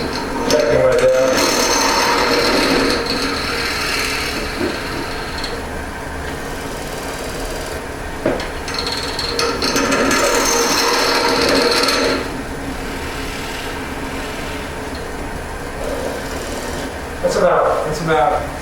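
A hollowing tool cuts wood inside a hollow form spinning on a lathe, giving a loud, continuous scraping and rasping with a steady motor hum. The cutting surges and eases in long stretches, and someone talks over it.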